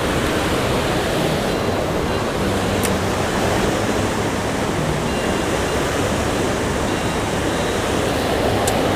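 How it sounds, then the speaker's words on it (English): A waterfall roars close by, a dense, steady rushing of water that stays loud and unchanging throughout. "I found a really cool spot next to this waterfall"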